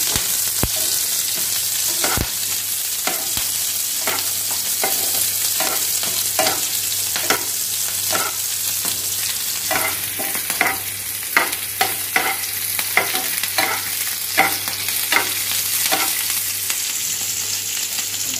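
Onions and chilli sizzling steadily in a hot pan, with a continuous fry hiss and regular scraping stirs of a utensil against the pan throughout, close and fairly loud, with no talking.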